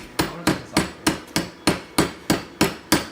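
A hammer knocks welding slag off a fresh weld in ten sharp, evenly spaced metallic strikes, loud and close, with no voices.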